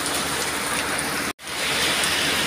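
Steady rain pours down in a continuous broadband hiss at a repair spot where an engine is being worked on, with one brief dropout midway and no voices.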